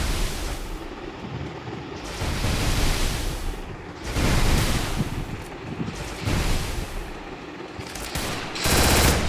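Gunfire in the Free Fire video game comes in loud, dense bursts that swell and fade in waves, with a sharp blast near the end.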